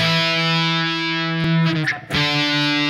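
Electric guitar sustains a loud, ringing octave chord, briefly interrupted by a quick strum change before the chord rings on; no voices.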